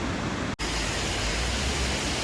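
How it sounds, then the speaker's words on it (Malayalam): Cheeyappara waterfall near Munnar flows strongly, a loud, continuous broadband roar of rushing water with a momentary cut near the start and otherwise unbroken. "നല്ല ശക്തിയിൽ ഒഴുകുന്നുണ്ട് ഇപ്പോൾ വെള്ളം."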